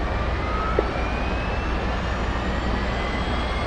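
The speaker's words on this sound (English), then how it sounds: "we're going to start the APU first. You can hear it rev up." An aircraft auxiliary power unit spins up during startup in the DCS flight simulator, a steady loud turbine whine and roar with a faint rising tone, continuous and close with no talking.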